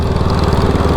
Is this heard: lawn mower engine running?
yes